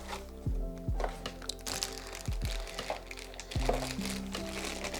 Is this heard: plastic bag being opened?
yes